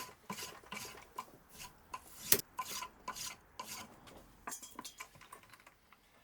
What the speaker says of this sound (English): making the dowel rods with a spoke shave.